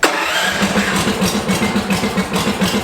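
A 420cc engine on a lifted off-road go kart cranks and fires, then settles into a steady, close, loud rhythmic chugging that pulses evenly throughout.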